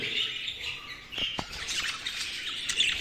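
A male and female pair of pet birds calls in bursts of bright squawks and chirps, close by and moderately loud against a steady hiss.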